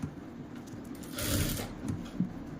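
A sewing machine stitches the neckline of a kurti, a steady low mechanical whirr that swells louder for about a second in the middle, close by and heard alone.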